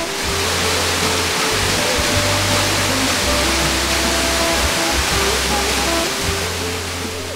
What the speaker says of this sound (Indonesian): Kondisi hutan yang masih perawan diiringi gemericik air terjun berbaur dengan kicauan burung